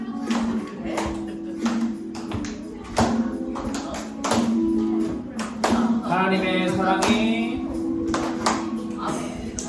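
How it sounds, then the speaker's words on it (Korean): Rhythmic hand claps keep a steady beat under a sung melody at a children's church worship service, with voices and instruments filling the background throughout. "우리 박수 치면서 찬양합시다"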